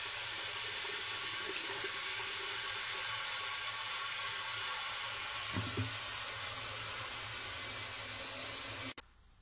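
Clear liquid drains out of the fuel tank of a 1983 Yamaha 125 DTMX motorcycle under restoration. A steady, close pouring and trickling runs throughout, ending with a short clunk.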